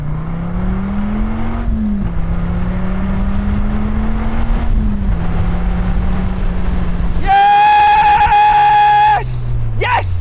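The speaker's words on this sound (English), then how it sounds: "First thing that you notice is the location of the exhaust. You just hear it in your ear hole" A first-generation Dodge Viper accelerating hard, its side exhaust loud and close, engine note climbing and dropping through gear changes, with a sharp high whine near the end.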